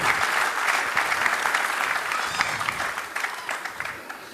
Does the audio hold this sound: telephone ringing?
no